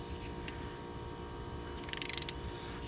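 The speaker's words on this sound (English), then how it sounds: "use the torque to put it at 37 foot-pounds" Torque wrench ratcheting while tightening a bolt on the front axle of a 2004 Volvo S80, a quick run of about eight sharp clicks near the end over a steady low background hum.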